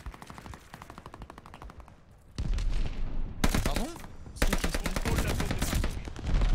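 An STG 44 assault rifle in a shooter game fires long, rapid automatic bursts that grow louder and denser partway through, broken by brief pauses, with the rattling shots close and dominant.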